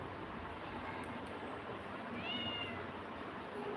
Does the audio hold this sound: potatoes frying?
no